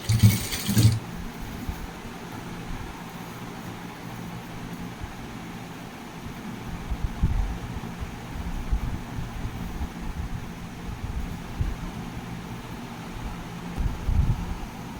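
A sewing machine stitches a school uniform with a steady low mechanical whir and faint rhythmic ticking, running continuously after a brief louder clack at the start.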